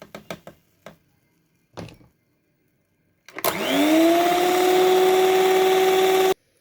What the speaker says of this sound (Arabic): هننزل كده بالدقيق حبة حبة نضربهم